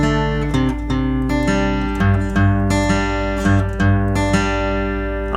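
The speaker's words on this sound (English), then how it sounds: "we're going to do an arpeggio, which is a fancy word for playing individual strings for the notes" Guitar arpeggio of a chord progression, with the bass note picked twice and then the individual strings of each chord plucked one by one, in a steady rolling pattern, close and solo.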